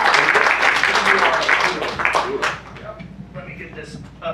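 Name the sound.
audience applause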